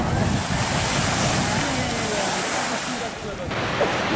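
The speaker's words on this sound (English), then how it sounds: "It's a waterfall." Gullfoss waterfall in Iceland pours with a steady, broadband roar of rushing water, and gusty wind buffets the microphone. Faint voices come and go beneath the noise.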